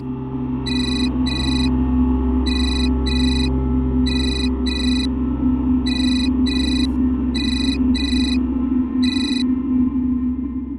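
A telephone rings in repeated pairs of short electronic trills, about six double rings at an even pace, over a constant low drone and background music.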